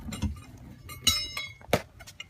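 The metal jack pieces for a 2010 Dodge Ram 1500 clink together in a few sharp, bright metallic knocks, handled close by, with soft rustling between the hits.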